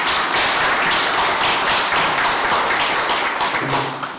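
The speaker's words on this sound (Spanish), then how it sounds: "yo creo que hay que darle un aplauso a la región" Sustained audience applause fills a room at a regional government event, dense and steady throughout with many overlapping claps, loud and close, easing slightly near the end.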